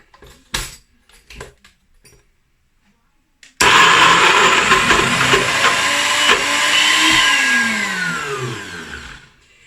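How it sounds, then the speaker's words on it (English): Blender running loudly as it purees a thick smoky vegan cheese mixture, starting abruptly after some light clinks and handling noises, then a steady whirring roar that slightly drops in pitch as it labors. "we're gonna blend this until smooth"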